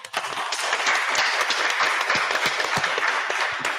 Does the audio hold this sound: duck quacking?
no